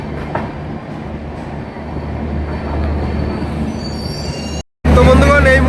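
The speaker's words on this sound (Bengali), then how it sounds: "মালদা টাউন রেল স্টেশনে প্রবেশ করেছে ট্রেন।" The LHB-coached Tebhaga Express from Balurghat to Kolkata rumbles into Malda Town station, close and loud, with wheel squeal rising over the rolling noise. The sound cuts out briefly, then returns as a louder burst.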